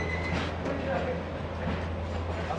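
Indian railway train, heard from inside the carriage as it starts to move: a steady, loud low rumble with broadband clatter running throughout, with faint voices in the background.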